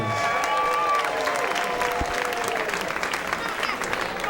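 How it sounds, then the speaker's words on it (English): Audience applause at a Pacifics baseball season opener in Marin County, a steady crowd clapping close at hand with some cheering mixed in, continuing at an even level throughout. "Let's give that a big round of applause."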